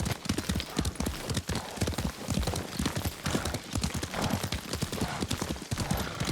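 A horse gallops in Ghost of Tsushima, its hooves pounding in a fast, steady rhythm that stays loud and continuous throughout, with no voices over it.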